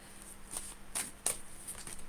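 Tarot cards being shuffled by hand at close range, a soft papery riffling with several brief louder flicks over a quiet background hum.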